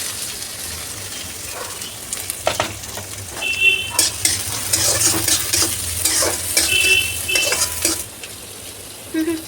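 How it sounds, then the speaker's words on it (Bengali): Onion frying in mustard oil while a metal spoon scrapes and clanks against the pan, a continuous sizzle under repeated stirring strokes and utensil knocks, close up with no talking. "এবার এটার মধ্যে আমি একটু পেঁয়াজ দিয়ে দেবো।"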